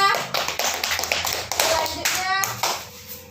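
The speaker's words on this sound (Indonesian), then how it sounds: "tepuk tangan Hafizah" Children in a second-grade classroom clap their hands together in a loud, uneven patter, bursts of claps mixed with a few young voices talking.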